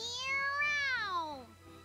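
A voice imitates a cat's meow in the Tales of Berseria game, one drawn-out rising and falling meow lasting under two seconds, heard alone and close.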